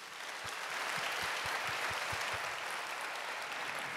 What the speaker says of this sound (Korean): 우리 인사하실 때 환영과 축복의 박수를 보내드리겠습니다.